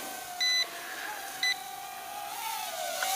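A Syma X21 quadcopter transmitter gives two short electronic beeps, the first a bit longer, close and alone over a steady faint hum.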